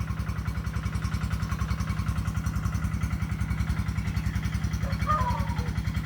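Engine of a farm water pump running in a pump room, a steady, close, evenly pulsing chug that continues throughout, with a brief faint voice near the end.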